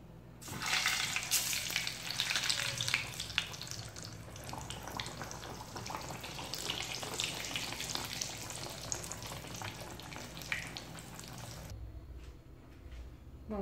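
Steady, crackling sizzle of churro dough discs frying in hot fat, loud and close, with occasional stirring clinks, fading out near the end.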